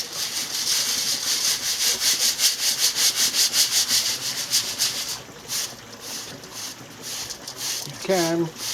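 Bonsai soil being sifted through a sieve makes a rhythmic, gritty rasp, repeated shaking strokes that fade near the end, followed by a brief voice.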